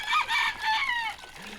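A farm rooster crows nearby, a loud drawn-out cock-a-doodle-doo with rising and falling notes, followed by a brief low cluck.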